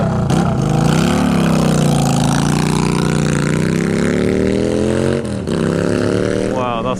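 A loud 2019 Kawasaki Ninja 636 motorcycle engine revs and roars up close, its pitch climbing steadily and dipping briefly near the end.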